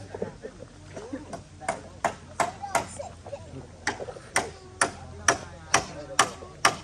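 Hammers striking wood while house pillars are raised at a communal building gathering, a steady series of sharp ringing blows at a moderate pace with several people talking in the background.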